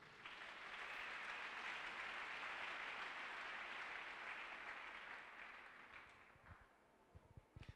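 A church congregation applauds Jesus in a broad, even wash of clapping that holds steady for several seconds, then thins out and fades, leaving scattered faint knocks.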